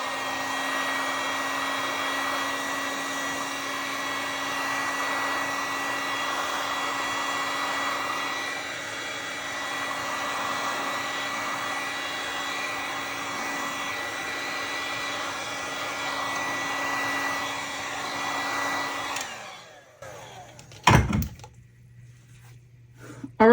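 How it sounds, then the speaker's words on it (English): A heat gun blows on a spinning resin tumbler, giving a steady loud whirring hiss with a faint tone for about twenty seconds before it switches off, followed by a few clunks and handling noises. "Maybe I'll take my heat gun to it a little bit and blow it around."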